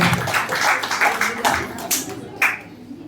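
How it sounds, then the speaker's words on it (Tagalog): An audience at a business product presentation claps for a guest, a loose patter of hand claps with a few sharper bursts, mixed with talk and murmuring. "Pakilambing ng palakpak kay Sir Bobby"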